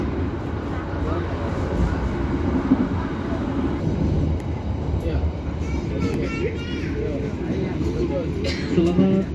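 Steady rumble and rattle from inside a moving Indonesian business-class passenger train rolling through Caruban station, a continuous low drone with clacking and squealing, while a person talks over it.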